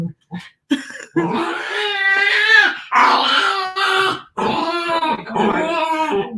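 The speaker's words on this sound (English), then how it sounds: "What kind of dog is it? American Eskimo." An American Eskimo dog whimpers and whines close by in several drawn-out, high, wavering cries separated by short breaths, sounding upset as it is picked up.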